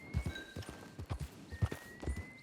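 Horse hooves clip-clop at a steady trot in Red Dead Redemption Online, each strike close and fairly loud, with a faint steady tone held in the background.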